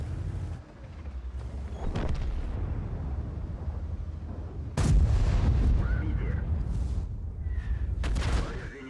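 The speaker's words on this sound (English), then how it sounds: "Artillery is still shooting me." Artillery fire in World of Tanks, heavy booming blasts with rumbling decays, a strong impact around the middle and another burst near the end, over continuous low game rumble.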